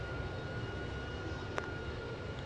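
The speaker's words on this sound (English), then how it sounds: "This plane has 4 engines, but it looks so small." A four-engine plane in a video game drones with a steady, fairly quiet engine hum that holds even throughout, with one brief click near the end.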